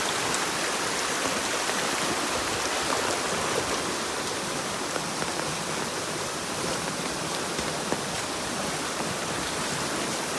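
Fast-flowing river water running high to the brim of its banks, a steady, loud, continuous rushing roar that fills the whole stretch without letup.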